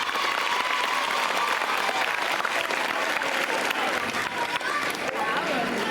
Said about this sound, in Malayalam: അന്ന പാട്ട് പാടണമെങ്കിൽ മാത്രം നിങ്ങൾ കൈയടിച്ചാൽ മതി.